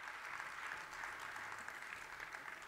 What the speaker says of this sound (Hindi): ताली बजाने से काम नहीं होगा